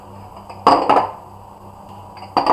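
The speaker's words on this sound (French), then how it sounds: "on prend les gants anti-chaleur pour sortir les bocaux parce que là, ils sont brûlants" Hot Le Parfait glass terrine jars lifted out after cooking, handled with heat-proof gloves, give three sharp glassy clunks, two close together and one after a quiet pause, over faint kitchen background.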